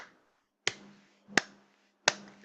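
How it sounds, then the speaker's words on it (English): Three sharp, separate hand claps spaced roughly evenly, close and crisp, with a faint hum between them during an online circle-geometry lesson. "Can you hear me clapping for you?"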